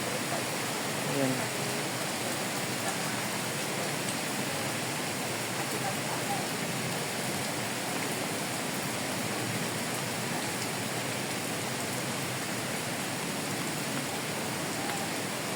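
Heavy rain falls in a botanical garden as a steady, broad, even wash of noise at a moderate distance, unbroken throughout, with a voice speaking over it.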